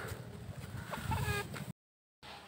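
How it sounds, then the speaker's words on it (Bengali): Hens just let out of their coop cluck nearby in a short burst of clucks and calls, then break off into a brief silence before the farmyard ambience returns. "এইমাত্র মুরগিগুলোকে ছেড়ে দিলাম"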